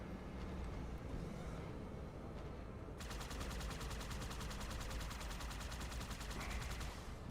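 Gunfire in Halo 2 on PC: continuous combat noise, then from about three seconds a rapid, steady automatic burst with evenly spaced shots running to the end.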